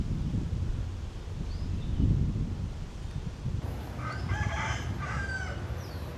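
Rooster crowing at a temple in Patong, one clear call rising over a steady outdoor wash of wind and rustling leaves, moderately close and unaccompanied by talk.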